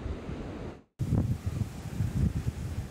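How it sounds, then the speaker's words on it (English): Heavy wind gusts buffet the microphone at a rough-sea beach, a loud roaring rush with a brief dropout before the buffeting resumes, pulsing with each gust. "just a lot of gusts, heavy gusts of wind"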